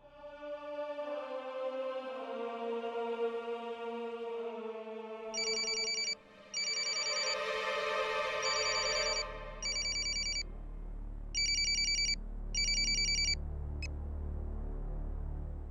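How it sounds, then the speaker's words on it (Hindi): Telephone rings in repeated, evenly spaced bursts over soft music in an indoor scene from a Hindi TV serial, clear and fairly loud. "किसका फोन है? कल्पी मैडम का फोन है"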